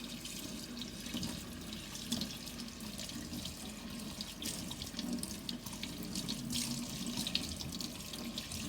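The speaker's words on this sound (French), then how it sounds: "Et on vient le rincer à l'eau froide." Cold tap water runs steadily into a sink while rice is rinsed under it, a close, continuous splashing rush with slight swirling variation throughout.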